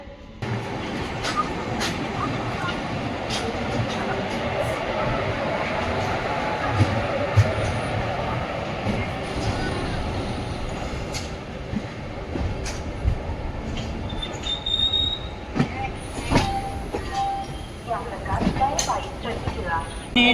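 Netravati Superfast Express hauled by a Ghaziabad WAP7 locomotive, heard from inside a sleeper class coach: a steady, continuous rumble of running train with occasional clicks and brief squeals, and muffled voices in the background.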